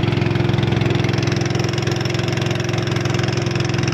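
A boat's engine runs steadily at close range, a loud continuous idling drone with a pulsing low rumble on a river crossing, no voices over it.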